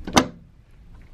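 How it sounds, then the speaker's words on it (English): A door on a cruise ship cabin shuts with a single short thud near the start, followed by faint room tone and quiet background sounds. "closing the door."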